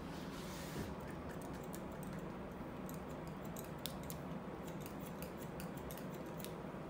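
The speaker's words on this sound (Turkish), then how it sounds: "Tarakla makas kombinasyonu yukarı doğru çıkarak izleri kaybediyorsunuz." Barber's scissors snipping hair with a comb during a high fade cut, a faint series of small, irregular metallic clicks over a steady background hiss.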